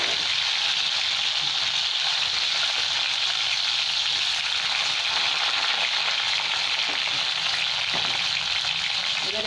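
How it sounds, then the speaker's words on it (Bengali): Small bitter gourd pieces fry with salt and turmeric in hot oil in a kadai, a loud, continuous sizzle with occasional stirring scrapes and no talk. "সেগুলো একটু নুন আর হলুদ দিয়ে ভেজে নেব।"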